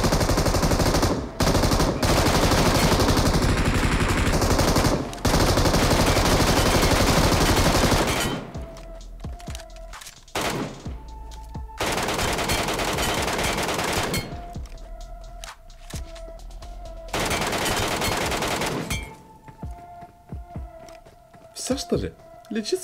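Machine gun fire in PUBG Mobile's Metro Royale mode: long sustained automatic bursts, then shorter separate volleys with pauses between, loud and close, while someone talks over them.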